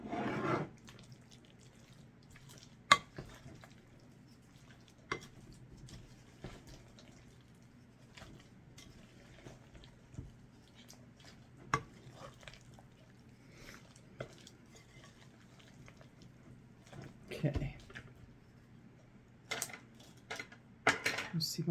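Potato salad with cheese mixed in a bowl with a fork, sparse scattered clinks and scrapes separated by quiet gaps over a long stretch.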